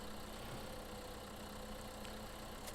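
A tractor engine idles in the Farming Simulator 15 video game with a low, steady drone. It is faint and even throughout, with no talking over it.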